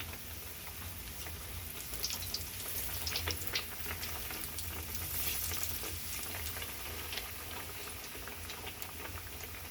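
Bread pakoras fry in hot oil with a steady, close bubbling sizzle that runs throughout, broken by brief crackling pops.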